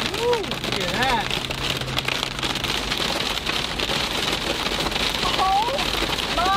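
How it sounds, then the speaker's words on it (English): Hail pours down steadily onto the ground around an RV, a dense continuous patter and crackle of ice striking surfaces, loud and close, with brief bird-like chirps and occasional vocal sounds over the top. "Ground is covered in hail."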